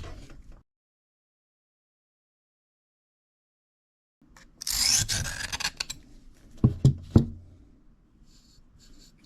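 Knife blade stroked across a cheap Kitanis diamond sharpening plate, a run of close raspy scraping passes with sharp clicks after a long silence, then quiet rubbing.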